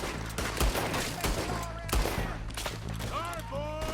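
Gunfire cracks repeatedly in a Red Dead Redemption 2 shootout with raiders, several loud close shots and scattered volleys, with voices and whistling tones mixed in toward the end.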